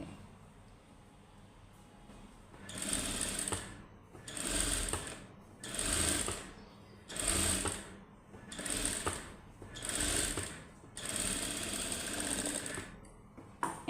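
A sewing machine stitches the side of a frock in a tailoring class, running in about seven separate bursts of rapid mechanical whirring, each lasting a second or so with brief pauses between, close and clear, with no talk.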